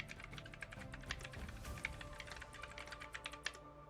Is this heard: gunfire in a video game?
no